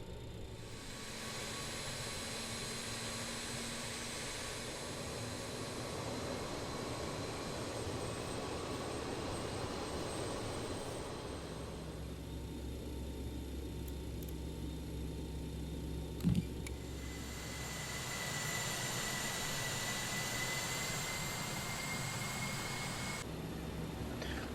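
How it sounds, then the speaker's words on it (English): Simulated jet engines of a BAe 146 airliner in a flight simulator spool up one after another, a steady loud whine and rumble with shifting tones and a brief click midway, no talking. "I'll let you enjoy the sounds of the engine startup of all 4 engines"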